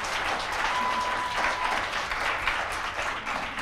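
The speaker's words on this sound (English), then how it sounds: "Please give a round of applause." An audience at a late-night campus interview show gives a round of applause, a thick, continuous clatter of many hands that stays steady and fairly loud before easing slightly near the end, with no voices over it.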